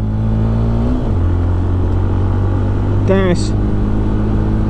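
A Benelli BN125 125cc motorcycle engine drones steadily while riding, with a brief rising rev near the end, all under a voice talking close.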